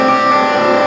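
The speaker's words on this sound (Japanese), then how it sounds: "これは今、オーバードライブがシミュレートされているんですけれども、鳴らしてみるとこんな感じ。" An electric guitar played through a simulated overdrive effect rings out as a loud, sustained distorted chord, dense and continuous for about a second with no voices.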